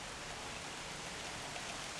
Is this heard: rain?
yes